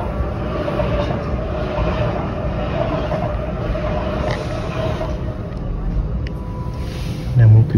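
Passenger train running through southern Sweden in winter near Helsingborg, a steady low rumble and rattle of the carriage that holds throughout, with a brief louder thump near the end.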